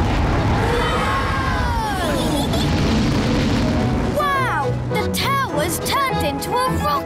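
A cartoon tower blasting off as a rocket, a loud continuous roaring rush with rising whistles, then bright twinkling chimes and swooping tones take over near the end.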